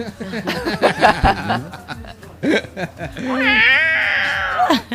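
A performer at a live Kreol FM broadcast sings in a yowling voice imitating a caterwauling cat, with drawn-out wavering meows following a stretch of chuckling and speech.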